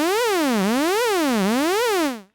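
A Repro 5 synthesizer tone swept up and down by a triangle-shaped LFO, a loud buzzy note rising and falling in pitch at a steady rate about three times, then cutting off.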